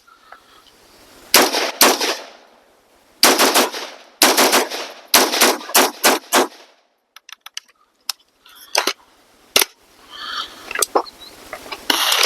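A BRN-180 rifle with its gas set to the third position fires in quick, loud clusters of sharp shots, followed by quieter scattered metallic clicks and handling noises near the end.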